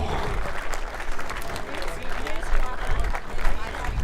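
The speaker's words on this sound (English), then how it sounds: "How about a big round of applause, ladies and gentlemen?" Audience applause at the opening of a 2017 world championship event, a thick roar of clapping mixed with crowd noise and murmuring voices, steady and fairly loud throughout.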